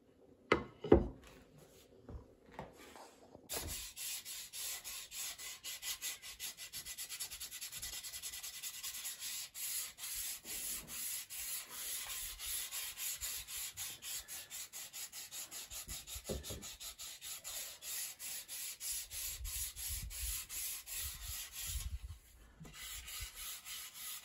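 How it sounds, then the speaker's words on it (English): Wooden banjo kit parts are sanded by hand with a sanding block, giving a steady, continuous scratchy rasp after a few knocks at the start, with a brief low thump later and no talking. "we're just both going to sand at the same time"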